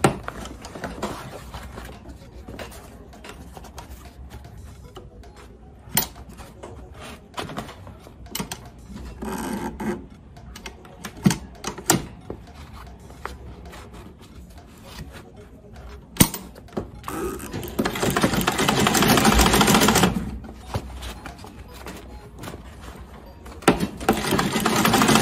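A sewing machine stitches an Ankara fabric baseball cap, sounding as scattered clicks and short mechanical bursts that build into a sustained whirring run of stitching near the end, close and fairly loud.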